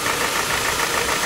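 A faulty Hyundai NF Sonata engine gives a steady, close mechanical knocking and rattling at idle, a continuous chatter with no voices over it.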